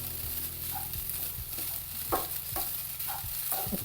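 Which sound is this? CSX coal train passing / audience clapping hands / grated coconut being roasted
grated coconut being roasted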